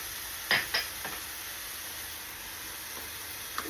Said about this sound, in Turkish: 300 gram kadar kıyma koyuyorum. İyicene kavuralım.